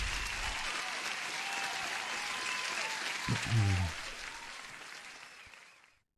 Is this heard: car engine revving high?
no